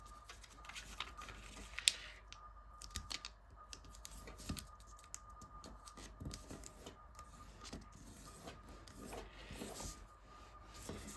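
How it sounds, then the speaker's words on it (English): Origami paper being folded into a Phoenix fighter jet, with dry rustling, creasing and light rubbing running steadily throughout, close and fairly quiet, plus a few sharp crinkle taps. "fold these 2 flaps out from this point here all the way down to there"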